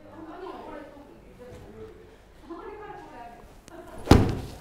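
A golf iron digs into the ground on a practice swing with a single heavy thud near the end, after a stretch of quiet talking.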